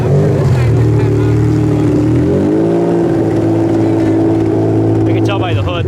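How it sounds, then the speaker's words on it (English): A Lexus ES 300 rumbles past at a county fair demolition derby, its loud engine drone rising and falling in pitch as it drives by nearby, with other machinery noise in the background. "here comes a, it looks like a Lexus to me, Lexus ES 300"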